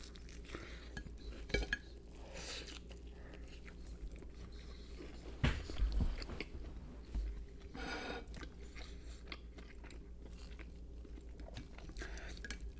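A person bites and chews a Wawa pizza topped with sausage, pepperoni and peppers, with soft mouth sounds, a few sharper crunchy bites and occasional faint clinks of dishes, all close and quiet with no talking.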